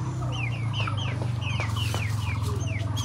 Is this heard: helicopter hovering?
no